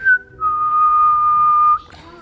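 A person whistles to a baby: a clear, close, sustained single-pitched whistle held for over a second, with a brief rising note before it and a short trailing note after.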